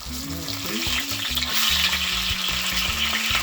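Pieces of Jamaican-style salmon fish fry in a pan, giving a loud, close, continuous sizzle and crackle of hot oil with no talking.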